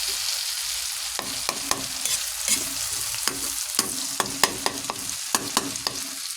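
An eggplant omelette (tortang talong) fries in a pan under a constant hiss, punctuated by sharp clicks and taps of a utensil at irregular intervals, heard up close.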